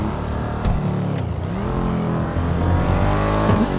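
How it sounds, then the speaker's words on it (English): Audi RS7 in the GTA 5 video game, a loud revving engine drone with rising pitch and sharp repeated pops and crackles of backfiring throughout. "Backfiring, man."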